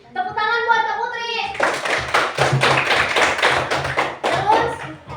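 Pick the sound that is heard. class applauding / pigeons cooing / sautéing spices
class applauding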